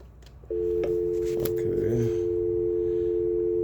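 A black desk telephone in a Hampton Inn hotel room: after a brief click the handset gives a steady, unbroken tone that runs to the end, with faint handling noises over it.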